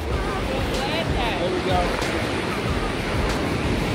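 Ocean waves breaking at a cold Virginia Beach shoreline, a steady loud wash of surf mixed with wind noise on the microphone, while people talk briefly over it.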